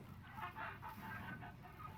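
Chickens in the medieval survival game Life is Feudal cluck softly in a coop, a few quiet, irregular clucks in a row with no other sounds.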